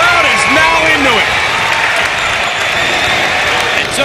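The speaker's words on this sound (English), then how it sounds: "Crowd is now into it." A basketball crowd at a high school game between Montrose Christian and Oak Hill cheers and applauds loudly after a dunk, a dense, sustained roar of clapping and shouting with whistle-like cries mixed in and talk over the top.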